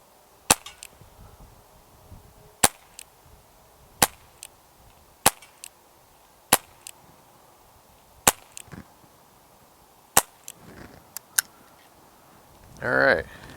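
A Walther CP88 Comp air pistol fires through a magazine, about eight sharp, loud cracks at uneven intervals of one to two seconds, with faint clicks between shots and a brief voice at the end.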